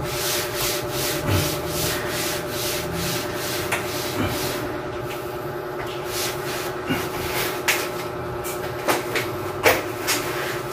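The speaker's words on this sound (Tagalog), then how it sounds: "Sinupunasan muna para matanggal yung mga likabok." Cloth rubbing and wiping dust from newly installed kitchen cabinets, a steady scraping texture with occasional light knocks and bumps, close and continuous with no talking.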